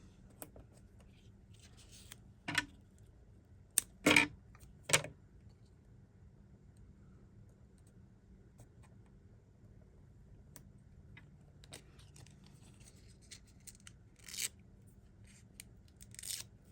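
Scissors cut card pieces for card making, with a few crisp, sparse snips close up in an otherwise quiet room.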